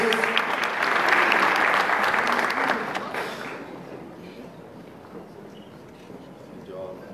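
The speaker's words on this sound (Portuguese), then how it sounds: "Uma salva de palmas" A crowd at a carnival awards ceremony claps loudly for about three seconds, then the applause fades away into quieter background murmur.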